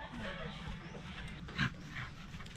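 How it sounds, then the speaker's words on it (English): A dog trailing someone on Bantayan Island, Cebu, giving a short, close whimper partway through over a low background murmur. "Why is this dog following me?"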